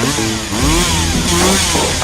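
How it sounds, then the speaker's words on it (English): A chainsaw used for wood carving runs loud and steady, its engine pitch rising and falling as it revs through the cut. "it means helping them with their new chainsaw carving hobby"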